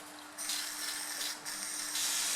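Lubricant sprayed onto a John Deere 2030 tractor's tie rod end at the steering knuckle, a close, steady hiss in several bursts with brief gaps as the wheel is turned.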